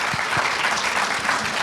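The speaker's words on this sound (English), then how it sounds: "Let's give them a round of applause, please." Audience applause for venture capital, angel investor and deal maker panelists at a Silicon Dragon panel discussion at Cyberport, Hong Kong: steady, dense clapping from a crowd, fairly loud and continuous throughout.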